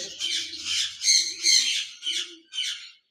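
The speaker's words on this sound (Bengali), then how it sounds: "আরেক জোড়া লুটিনো অপারলাইন লাভবার্ড পাখি রয়েছে।" A lovebird squawks in five sharp, shrill bursts close by, with short pauses between calls and no talking.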